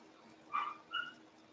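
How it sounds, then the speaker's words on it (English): Two quick, faint yips from a dog, far off, over a low steady hiss. "Who's barking like that?"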